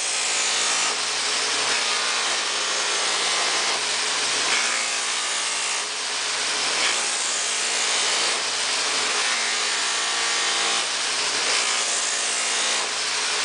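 Buffing wheel making a finish cut on stainless steel trim: a steady, loud abrasive whirring rub that runs continuously, with slight rhythmic swells as the piece is worked against the wheel.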